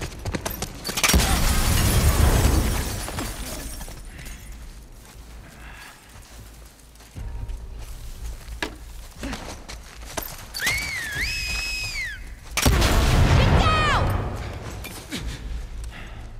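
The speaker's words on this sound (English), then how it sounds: "We're under fire!" Gunfire and explosions in a video game firefight come in two heavy, roaring bursts at the start and near the end. A quieter stretch between them holds scattered shots and a few whistling tones.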